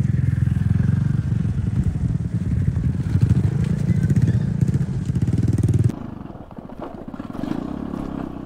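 A motorcycle engine rumbles steadily and close for several seconds on a newly built bypass road in Calamba, Laguna, then drops off sharply, leaving quieter road noise.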